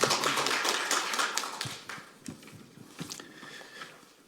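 An indoor audience claps at a formal children's-rights policy forum, the applause starting loud and dense, then thinning into scattered claps that fade out.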